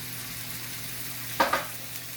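A halibut fillet searing belly side down in a hot pan, a steady even sizzle with two quick louder bursts of spatter partway through.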